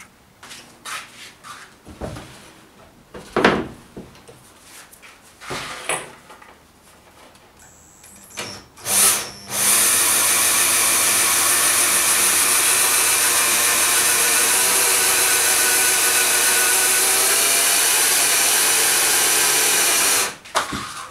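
After some clattering and handling noises, an electric motor driving a homemade motorized scissor lift platform whirs loud and steady for about ten seconds, then stops abruptly.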